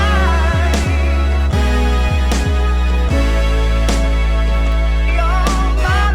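A loud full drum beat plays in a steady groove, layered snares cracking on the backbeat over deep booming kicks, with musical tones running underneath.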